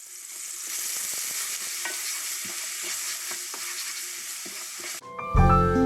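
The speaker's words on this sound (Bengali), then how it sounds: "এবার এখানে তৈরি করে রাখা পেঁয়াজ বাটাটা দিয়ে ভালো মতো ভাজতে থাকতে হবে" Onion paste frying with spices in a pan for chicken rezala, a steady hiss of sizzling with soft stirring scrapes, near and alone, ending in a brief louder clatter.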